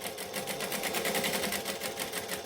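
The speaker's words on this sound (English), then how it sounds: "now we're just going to top stitch it" A sewing machine top stitching runs steadily with fast, even needle pulses, close and moderately quiet, with no talking.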